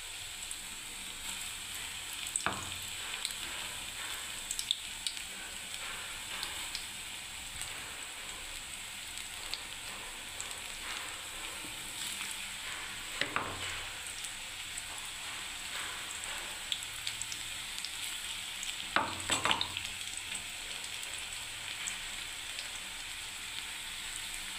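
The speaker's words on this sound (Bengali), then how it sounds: "তেল গরম হয়ে গেছে। আমি এবারে পেঁয়াজগুলো সব ছেড়ে দিচ্ছি এবারে" Onions sizzling in hot oil in a pan as a Bengali cauliflower dish is prepared: a steady, soft crackling hiss throughout, with a few louder bursts of spattering.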